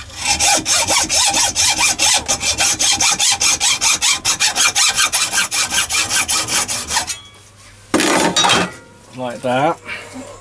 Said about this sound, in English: And then I saw this lug off here.